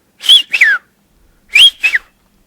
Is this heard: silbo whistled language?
yes